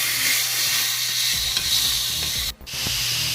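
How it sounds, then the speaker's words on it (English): Onions and rub-marinated steak sizzle hard in a hot pan, a steady loud frying hiss with occasional stirring scrapes and a brief dip near the end. "Now we're gonna go ahead and throw these onions up in there. And we're gonna cook these down."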